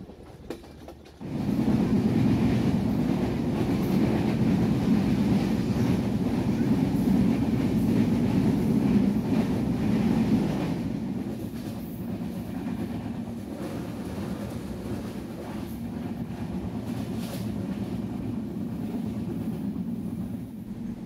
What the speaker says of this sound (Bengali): যমুনা সেতু পার হওয়ার সাথে সাথেই আমাদের রেলের গতি কিছুটা বাড়ল আমরা ছুটে চলছি রাজশাহীর দিকে